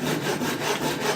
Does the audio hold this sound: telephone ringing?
no